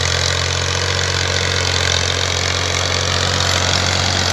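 A Massey Ferguson MF 260 tractor engine idles steadily and loudly up close, a constant low diesel rumble with no gaps and no talk over it.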